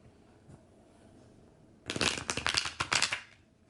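After a quiet moment, a deck of tarot cards is shuffled briskly for about two seconds, a close, rapid riffle of papery flicks.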